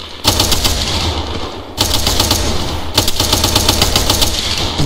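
A .50 caliber machine gun fires long sustained bursts at a range, rapid heavy reports loud and close, with a brief gap between two strings of fire.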